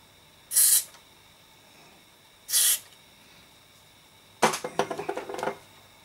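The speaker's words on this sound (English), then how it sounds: "Spray them." An aerosol can sprays a Toshiba RT-120S radio cassette player in two short, sharp hissing bursts, followed by a burst of crackly clicking and rattling handling noise nearby.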